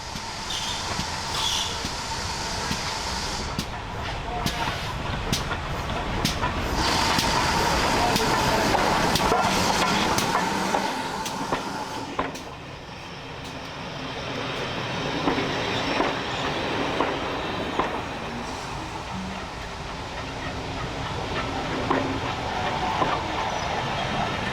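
A small steam train passes along a railway line through woodland, with rumbling wheels, clickety-clack over the rail joints and squealing, loud and close for most of the stretch before easing briefly and building again.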